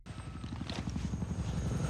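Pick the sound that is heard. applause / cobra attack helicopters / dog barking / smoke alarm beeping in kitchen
cobra attack helicopters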